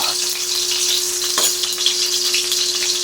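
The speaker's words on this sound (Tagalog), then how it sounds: "ilagay na po natin ang ating bawang" Garlic fries in a pan for squid adobo, producing a steady, fairly loud sizzling crackle with one brief scrape partway through and a faint steady hum beneath.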